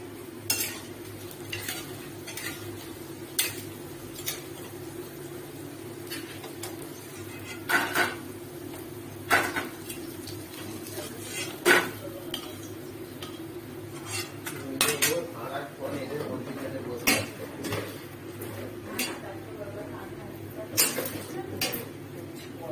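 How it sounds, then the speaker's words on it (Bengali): Small shrimp pakoras frying in a home kitchen, a low steady sizzle underneath repeated sharp clinks and scrapes of a metal spoon against the pot, spaced irregularly across the whole stretch. "মানে কুচো চিংড়ি পকোড়া হচ্ছে।"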